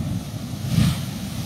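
High, violent waves break at the port of Manzanillo, Colima, a broad rushing surf noise with wind, swelling briefly toward a louder crash near the middle.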